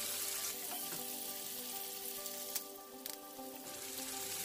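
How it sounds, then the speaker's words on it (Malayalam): Bitter gourd frying in oil, a quiet continuous sizzle with soft crackle and a couple of light ladle stirs partway through. "എന്നിട്ട് നമുക്ക് തവി വെച്ച് ഒന്ന് ഇളക്കി കൊടുക്കാം."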